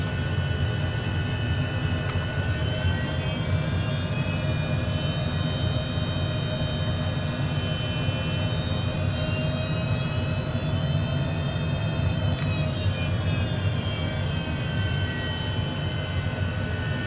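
A FlightFX H420 aircraft engine in Microsoft Flight Simulator 2024 holds a steady, loud rumbling drone with a faint whine layered on top as it powers up for takeoff.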